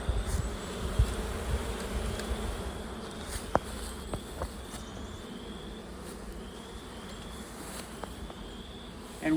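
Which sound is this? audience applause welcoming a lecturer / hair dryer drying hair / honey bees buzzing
honey bees buzzing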